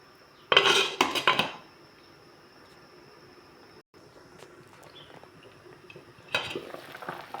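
A metal lid clatters onto a pot of fish soup with mixed vegetables and chillies, loud clanking bursts near the start, then a low simmering background and another softer clink near the end.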